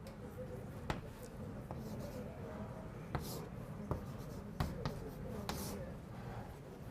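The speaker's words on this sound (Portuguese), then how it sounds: "Eu vou escrever explicitamente" Chalk or marker writing on a board during a calculus lecture, a series of sharp taps and short scratchy strokes spaced irregularly over a quiet room hum, with no talking.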